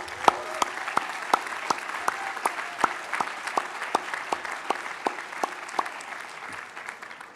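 Audience applause for faculty, staff and mentors at a Harvard Medical School class day ceremony: a dense, steady wash of clapping from a large crowd, with sharp individual claps standing out near the microphone throughout.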